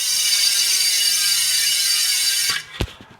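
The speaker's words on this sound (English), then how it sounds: "Hydra hub engagement that everybody raves about." A mountain bike's Hydra freewheel hub clicks in a fast, dense, loud buzz as the wheel spins freely, then slows to a few separate clicks and stops.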